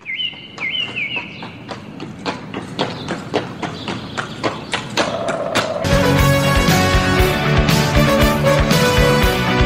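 Horse hooves clip-clop in the video game Star Stable Online, a steady rhythmic trot with a high chirp early on, joined midway by loud layered game music that carries on beneath the hoofbeats.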